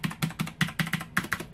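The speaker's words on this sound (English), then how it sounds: "now these keys are true mechanical keys," Rapid clacking of keys on a Motospeed CK888 mechanical gaming keyboard, about a dozen crisp close strokes in quick succession with no talking.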